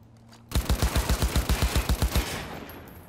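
Assault rifle gunfire in Cyberpunk 2077: a sustained burst of about fifteen rapid, evenly spaced, loud shots lasting under two seconds, then a ringing tail.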